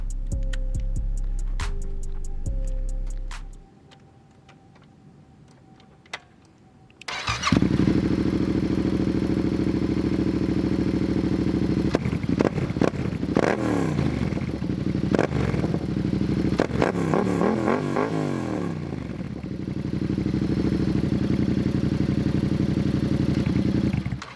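A Yamaha MT-07 motorcycle cranks and fires up after a few seconds of quiet, then settles into a loud, steady idle with slight revving, heard up close with no talking.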